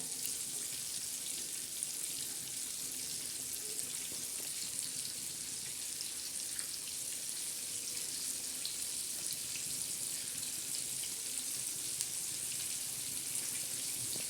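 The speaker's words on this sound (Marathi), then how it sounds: "खमंग अशी मस्त खरपूस मच्छी आपण आज तळत आहोत" Mackerel (bangda) fillets fry in hot oil in a pan with a steady, dense crackling sizzle that stays even and close throughout.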